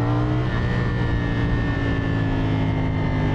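A CFMOTO SR450 twin-cylinder motorcycle engine drones loud and close, holding a steady throbbing tone with a slowly shifting pitch as it rides, with no talk over it.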